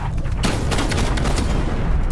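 Rapid, loud bursts of gunfire and heavy booms crackle close by in a Call of Duty Cold War beta multiplayer match, a dense barrage sustained throughout with no talk.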